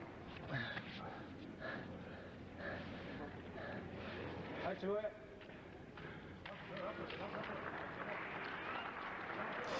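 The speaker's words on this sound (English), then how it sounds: "Some more polite applause." Polite, scattered applause from the crowd at a 1994 Lumax Cup Tournament of J MMA event, a thin broadband patter in the arena that swells toward the end while commentators talk over it.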